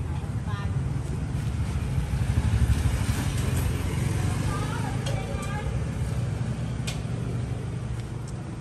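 Suzuki Xipo 120 motorcycle engine idling steadily, a continuous close low buzzing hum with a constant throb throughout, heard under someone talking.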